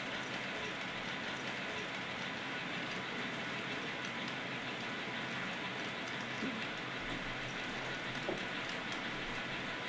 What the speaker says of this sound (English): our train will pass right past the Edwards and Bradford lumber mill